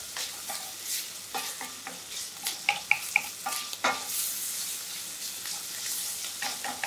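Bread frying in a pan over high heat while being stirred for a bread soup: a steady close sizzle with repeated scraping and clicking of a utensil against the pan, some louder knocks in the middle.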